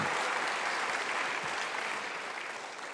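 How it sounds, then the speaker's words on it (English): Warm, dense applause from a commencement audience honoring faculty at a UC Berkeley art practice ceremony, steady and full, tapering slightly toward the end. "Please join me in giving a warm, grateful round of applause to our faculty."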